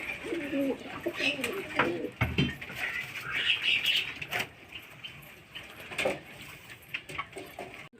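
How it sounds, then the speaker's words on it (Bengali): Domestic pigeons bathing in water at home cooing steadily, with scattered short splashy bursts and wing flutters mixed in at close range. "আর এখানে কিছু পায়রা এখনো চান করছে।"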